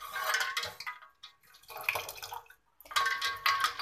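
Kashmiri pink tea with cold water is ladled and aerated in three bursts of splashing and pouring liquid, each about a second long and separated by short quiet gaps, fairly close and moderately soft.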